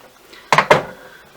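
Two quick wooden knocks of a makeup drawer being shut, sharp close thuds in rapid succession against a quiet room.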